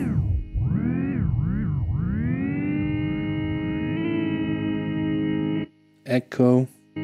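Electric guitar played through an Electro-Harmonix Superego Plus pedal on its delay setting, sustained notes swelling and repeating in echoing trails for several seconds, then a short burst of sparser plucked notes after a brief gap.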